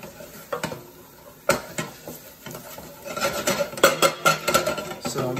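Flour stirred into a lobster bisque sauce in a hot cast iron pan, a spoon scraping and knocking against the iron in quick strokes over a faint sizzle, growing busier toward the end.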